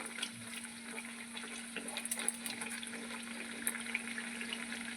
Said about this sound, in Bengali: এটা এপিট ওপিট ভালো করে ভাজা হবে আর খুব ক্রাঞ্চি হবে